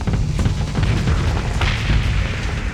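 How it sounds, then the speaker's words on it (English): A ship blows up during a space battle in the video game Starsector, giving dense low booms and rumbling bursts that run continuously and loud without any talk. "fighters don't take damage from ship explosions"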